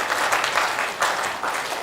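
A large crowd at a Hindu religious darbar applauds in a dense, steady wash of clapping that rises and dips slightly, with no voices heard.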